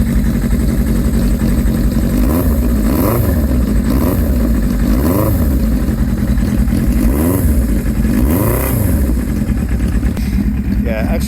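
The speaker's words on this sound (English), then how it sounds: "I love the sound of that exhaust," A Suzuki Katana motorcycle's exhaust runs loud and steady, its engine rising and falling in several revs over a continuous rumble, with a voice talking over it.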